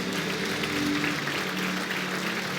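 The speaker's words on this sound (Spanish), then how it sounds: "Dale un aplauso fuerte al Señor." A church congregation claps loudly and continuously, a dense sustained wash of applause from a large crowd at close range with no pauses.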